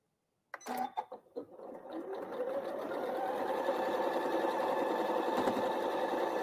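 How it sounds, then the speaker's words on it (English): A domestic sewing machine stitching a quilt block: a few short starts and stops, then a steady, close, continuous whirring run of stitching with no talk. "you're sewing on the right side of your machine"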